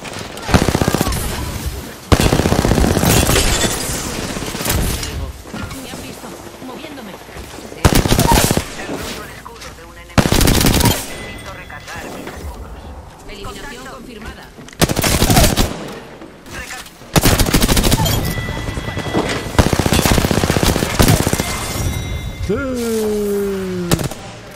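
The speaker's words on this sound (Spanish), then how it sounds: "Me han descubierto, estoy recibiendo disparos" Bursts of rapid automatic gunfire in Apex Legends come in repeated volleys separated by brief lulls, with crackling shots and a voice speaking between them.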